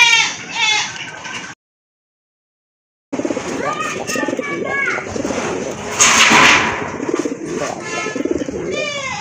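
Local pigeons coo in repeated throaty, rolling phrases close by, with someone talking over them and a short silent gap early on.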